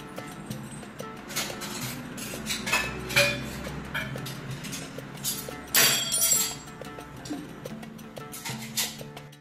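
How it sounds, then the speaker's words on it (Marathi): Washed steel pots and dishes are put away in a home kitchen, giving scattered clinks and light metallic knocks at an unhurried pace, close by against a quiet background. "तर आता ती मी भांडी लावून घेते"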